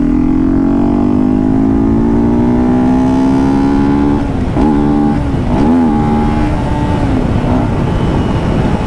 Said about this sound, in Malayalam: ഈ വണ്ടിയുടെ ആ ഒരു പവർ ഫിൽഡറിൻ്റെ ആ ഒരു ശബ്ദവും